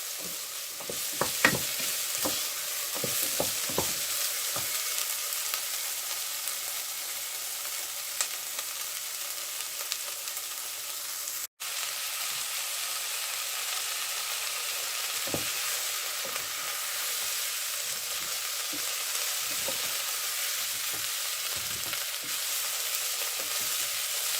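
Steady sizzling of potatoes and dried fish frying in a pan for curry, with intermittent scraping and clinking as it is stirred, no voices.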